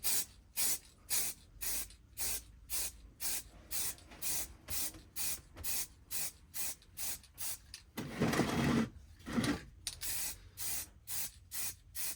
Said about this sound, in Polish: Dlatego trzymamy spray jakieś 10-15 cm od modelu i sprayujemy.